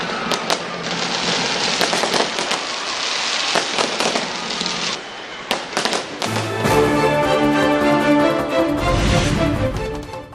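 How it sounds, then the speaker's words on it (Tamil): Fireworks burst during a New Year celebration in New Zealand, a dense run of sharp crackling pops and bangs, close and loud, with layered booms and lingering crackle throughout, no talking. "2026 பட்டாசுகள் வெடித்து கொண்டாட்டத்துடன் வரவேற்ற மக்கள்."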